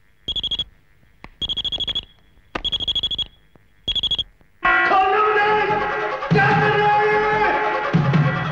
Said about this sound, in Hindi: जब भी सूर्यदेव सिंह को हमारी जरूरत पड़ेगी तो इस पर अलार्म बज उठेगा।